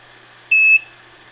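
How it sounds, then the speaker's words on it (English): A single short electronic beep, clear and steady, rising briefly over a quiet background. "when that beeps, it'll let me know"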